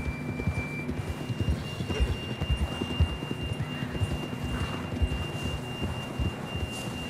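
Steady, rhythmic clip-clop of horse hooves trotting in a video game over a low hum, with a faint thin tone in the background.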